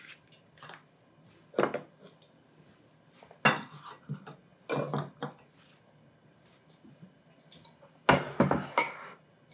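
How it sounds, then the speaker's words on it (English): Ingredients, including maple syrup, are mixed in a bowl beside meat searing in a pan, giving intermittent sharp clinks and scrapes of a utensil against the dish separated by quiet gaps. "So while I'm searing that on that side, I'm going to go ahead and mix my ingredients."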